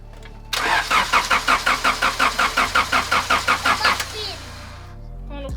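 A rebuilt turbo Honda Civic engine cranks over with a rapid, even, rhythmic starter chug of about fifteen loud pulses, then catches briefly and fades down, heard up close with no talking.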